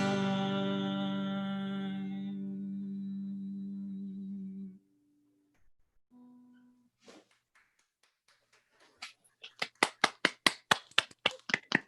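A long held tone fades to quiet, then a run of steady, evenly spaced hand claps builds up close by as applause during a music release stream.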